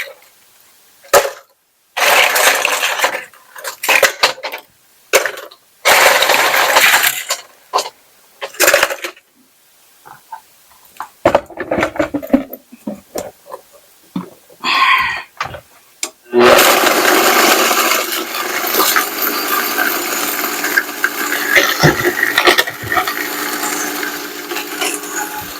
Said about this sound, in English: I'm going to use my Vitamix.